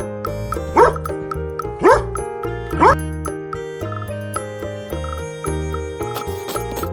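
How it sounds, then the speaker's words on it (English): A dog barks three times at an even pace, short sharp yaps spaced about a second apart, over cheerful children's alphabet music with light jingling. "D for dog."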